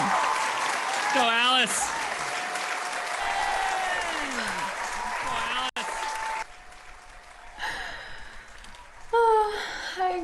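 An audience claps and cheers for the performer at a music show, with a continuous wash of applause under excited voices and whoops, then a sudden drop to quieter crowd noise and a few shouts near the end.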